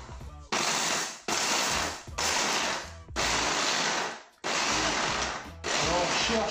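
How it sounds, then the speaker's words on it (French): A blender blending shrimp bisque ingredients whirs loudly in repeated bursts, about six pulses separated by short pauses, close and harsh. "maintenant on n'a plus tout simplement qu'à mixer"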